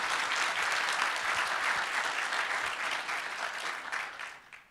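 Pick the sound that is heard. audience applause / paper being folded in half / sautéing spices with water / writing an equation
audience applause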